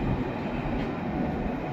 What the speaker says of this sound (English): Tangmere arriving back for its charter back to Chester